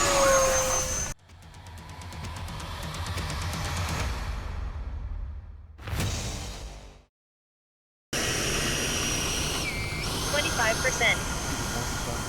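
Raptor 70mm RC jet model aircraft flying at a field, its ducted-fan whine rising and falling across several passes, cut by a brief full dropout near the middle, with voices talking over parts of it.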